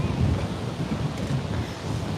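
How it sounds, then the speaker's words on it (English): Strong wind buffets the microphone in a continuous rough roar by Lisi Lake in Tbilisi, Georgia, with a faint wash like surf underneath. "It's so windy."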